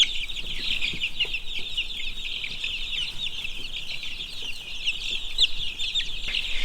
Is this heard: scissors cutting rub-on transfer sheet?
no